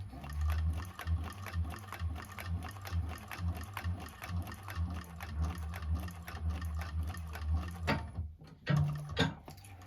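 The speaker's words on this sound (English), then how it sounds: "I'm going to sew the seam down" A 1341 cylinder arm sewing machine stitches a seam in a clear vinyl bag, running in a steady, close, fast mechanical clatter for about eight seconds before stopping, followed by a couple of brief handling knocks.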